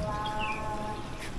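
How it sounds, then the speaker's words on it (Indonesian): Birds chirping near a house under renovation where wooden door and window frames are being sanded, a few short bright tweets over a low background hum. "Enak banget ya, ada suara burung."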